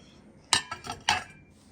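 Silverware and plates clink together while a table is set with gold-rimmed plates and chargers, four bright close metallic taps in quick succession against a quiet room.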